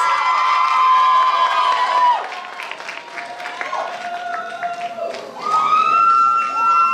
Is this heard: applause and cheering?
yes